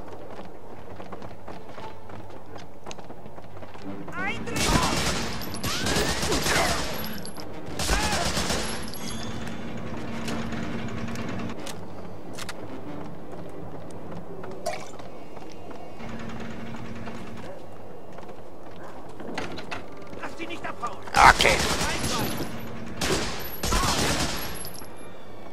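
Machine gun fire aimed at a tank in the Medal of Honor: Frontline video game: loud rattling bursts early on and again near the end, over battle ambience with intermittent talk.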